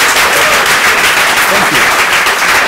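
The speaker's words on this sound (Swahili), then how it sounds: "Wapi makofi ya Gor Semelang'o." A studio audience claps and applauds for guest Gor Semelang'o on a talk show in loud, dense, sustained applause, close and filling the whole moment.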